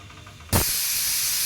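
Water heats under a covered plate to steam aluvadi. After a quiet start, a sudden loud steam hiss bursts in and then holds steady and close to the end.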